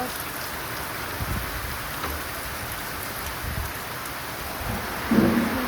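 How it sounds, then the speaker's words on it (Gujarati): Heavy rain pouring down at a house, a loud continuous hiss of drops on surfaces with a few heavier bursts and a low rumble near the end, no voices. "વરસાદ ચાલુ થઈ ગયો એકદમ ફૂલ ચાલુ થઈ ગયું"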